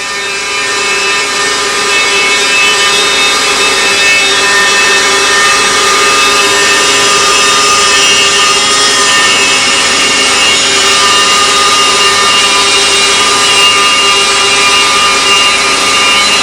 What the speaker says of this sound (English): a grinding or deburring operation is added to the tracking problem.